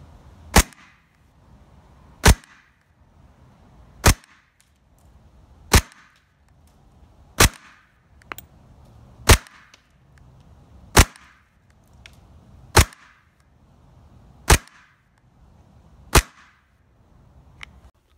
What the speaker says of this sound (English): Now we're going to head over to the chronograph to see how hard it's shooting.